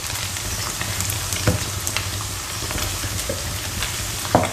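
Tomato and chili paste stir-fried in a pan for a Thai tomato chili dip, with a steady close sizzle, a few scraping stirs and brief clatters of the utensil against the pan.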